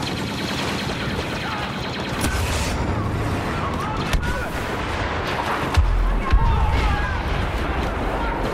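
Blaster fire in Star Wars Battlefront (2015) during an Infiltration match, scattered distant shots and booms with a few sharper bursts under steady battle noise and voices.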